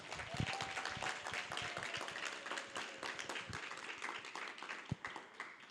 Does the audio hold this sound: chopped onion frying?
no